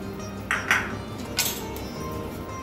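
A few metallic clinks and clanks as a pan is set on a stove for roasting horsegram, quiet and brief against steady kitchen background hum.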